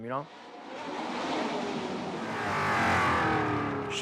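Formula One cars at the Monaco Grand Prix hairpin, the tightest, slowest corner: a continuous engine roar that swells and falls as cars brake and turn, with a voice talking over it throughout.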